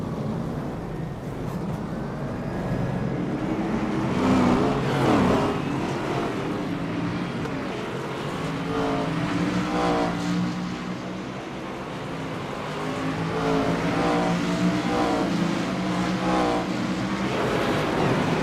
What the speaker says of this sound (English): The iRacing official pace car is due to get off of its starting position and take it into gear as the field runs out of the front straights.